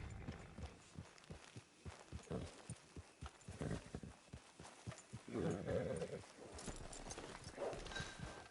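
Horse hooves clip-clop at a steady trot in Red Dead Redemption 2, with regular distinct hoofbeats running throughout at moderate volume and some faint game ambience underneath.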